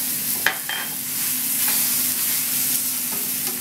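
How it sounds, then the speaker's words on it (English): Chopped garlic sizzles steadily in a hot pan while preparing Provençal ratatouille, with a few sharp clinks and scrapes as it is tossed and stirred, close up and with no talking. "I know the pan's hot, so we'll toss it around very quickly and then add the tomatoes to make sure that the garlic doesn't burn"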